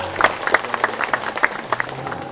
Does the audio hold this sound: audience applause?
yes